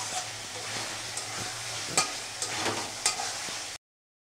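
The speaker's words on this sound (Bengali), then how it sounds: "এখন একটু নেড়ে নেবো" A spoon stirs fried egg and potato through spice masala in a pan, a soft steady sizzle with a few light scraping knocks, close and quiet, no talk.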